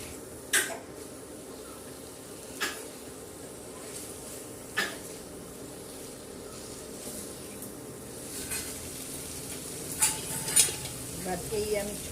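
Chickpea (chana) gravy being stirred and mixed in a pan: a spoon scrapes and clinks against the pan every couple of seconds over a soft, steady sizzle, with a few quicker knocks near the end.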